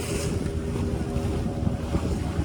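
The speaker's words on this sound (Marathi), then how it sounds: "वारा खूप आहे त्यामुळे लाटा उठत आहेत" Strong wind sweeps across the open sea off Tarkarli on the Konkan coast, with waves churning around a boat in a steady, loud, rumbling roar and wind buffeting the microphone throughout, no voices.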